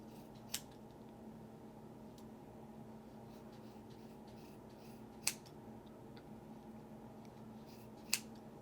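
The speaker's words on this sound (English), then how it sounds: "now you can cut the bottom" Scissors snip the bottom ends of a crocheted yarn tassel, three short, crisp cuts spaced apart against a quiet room background.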